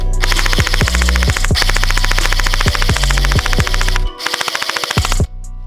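An airsoft gun with a quiet, muffled gearbox fires long, loud, rapid bursts of shots, then a short string of fainter rapid shots.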